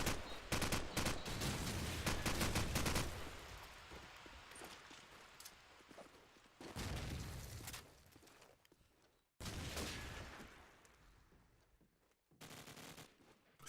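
Bursts of automatic gunfire from a Call of Duty 4 match crackle in clusters, heavy at first, then separated by short gaps and quieter stretches, with sharp cutoffs between volleys.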